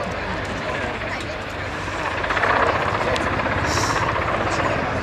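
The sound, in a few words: Royal Navy Merlin HM1 helicopter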